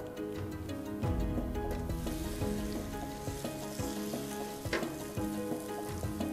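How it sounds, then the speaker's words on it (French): Okonomiyaki batter fries in sesame oil on an oiled griddle, giving a steady, close crackling sizzle with occasional louder pops and no voices. "J'aime bien faire revenir mes aliments avec l'huile de sésame."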